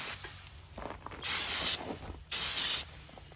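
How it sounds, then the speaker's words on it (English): Brake cleaner sprayed onto a riding mower deck: two close, loud hissing bursts of roughly half a second each, separated by a short pause. "Wait for it to cool, and then brake cleaner."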